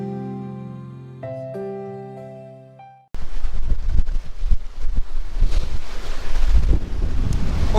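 Gusty wind in the Yorkshire Dales near Malham buffets the microphone with loud, uneven roaring rushes that cut in abruptly after a few seconds of soft sustained tones.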